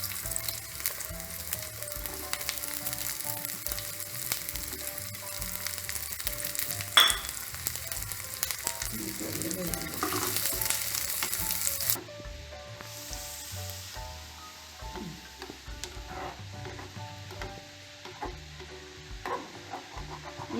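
Onions and curry leaves fry in oil for a Kerala beef curry, a loud, dense sizzle running throughout that drops to a quieter, softer crackle partway through, with occasional stirring scrapes.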